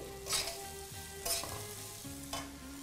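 Sweet potato, pumpkin, brinjal and other chopped vegetables fry in a pan, a soft steady sizzle with three brief louder bursts of stirring at regular intervals, quiet and close, with a faint low hum beneath.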